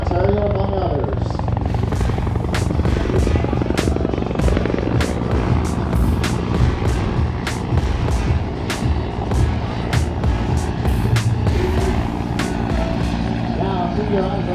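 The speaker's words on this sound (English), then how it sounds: "keep your eyes on this helicopter here" A helicopter flies at an air show in Toronto, its steady rotor thump and turbine roar loud and continuous, pulsing rapidly, while an announcer talks over a public address system.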